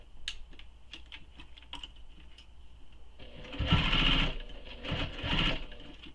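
Domestic sewing machine backstitching a wristlet seam, quiet ticking at first, then two louder whirring runs of stitching close by with a brief pause between them.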